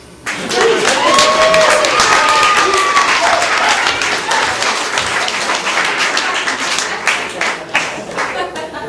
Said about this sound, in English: give me a clap if you have a friend